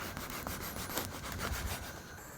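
A knife saws through slices of bread being cut for onion soup, giving a rapid, close rasping rub of repeated strokes in a quiet kitchen.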